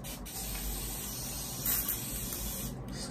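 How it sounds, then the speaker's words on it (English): A soft continuous hiss of a fine facial mist spray, close and quiet, with a brief stronger burst partway through. "Just spray the face a bit."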